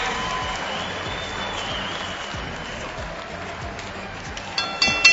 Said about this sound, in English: let's have a round of applause for these fighters